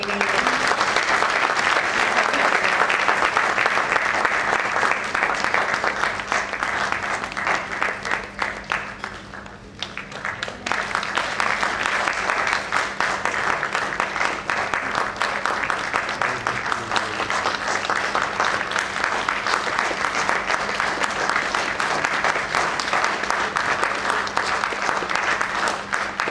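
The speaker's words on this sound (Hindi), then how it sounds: "ताली बजाने के लिए समय की बिल्कुल कमी नहीं है।" Audience applauding at the inaugural session of an international Dharma Dhamma conference, long sustained clapping from a large crowd that briefly dips, then swells again and continues steadily.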